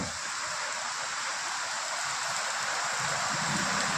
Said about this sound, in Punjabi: ਬਹੁਤ ਹੀ ਜ਼ੋਰਾਂ ਨਾਲ ਬਰਸਾਤ ਜਿਹੜੀ ਹੈ ਪੈਣੀ ਸ਼ੁਰੂ ਹੋ ਗਈ ਹੈ